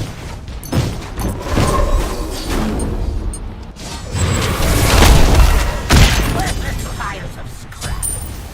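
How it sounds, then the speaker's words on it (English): Repeated booming detonations of Ah Puch's Corpse Explosion ability in the Smite video game, loud thumps and crackles in a rolling barrage mixed with in-game voices. "One of the reasons why you want to focus on your Corpse Explosion ability"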